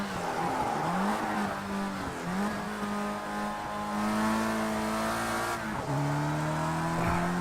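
Race car engine in a racing video game, revving and shifting through gears at a steady moderate level, with brief dips and rises in pitch as the car brakes and accelerates through corners, heard alone without talk.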